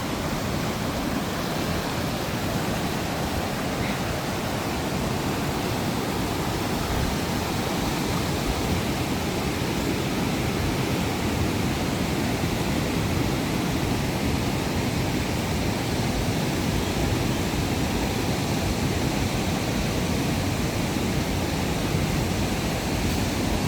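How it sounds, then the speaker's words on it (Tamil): Water rushes steadily through the opened spillway gates of Iranamadu reservoir, a dense, continuous roar heard up close without pause and without voices. "இப்படி தான் தண்ணி திறக்கப்பட்டிருக்குது"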